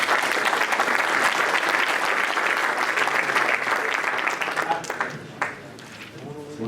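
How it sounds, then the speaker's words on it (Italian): Audience at an engineers' federation conference applauding as a speaker is introduced, a dense burst of clapping from many people that fades out near the end, with a voice emerging at the tail. "Applaudiamolo, che così."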